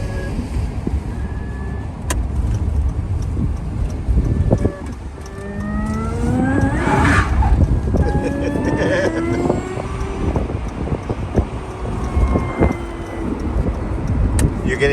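A Tesla-motored electric Bugeye Sprite drives through town, its motor whining in rising sweeps as it accelerates, with road and wind noise throughout, brief tire chirps, and someone talking over it.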